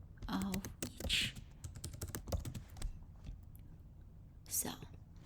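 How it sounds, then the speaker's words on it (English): Keystrokes on a computer keyboard while entering table titles in Excel, soft clustered clicks with quiet whispery voice sounds mixed in near the microphone. "So we are going to type in the title of each"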